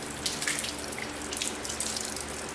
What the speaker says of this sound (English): So I'm just going to use some of the water out of the toilet bowl,